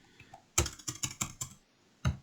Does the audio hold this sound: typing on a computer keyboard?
yes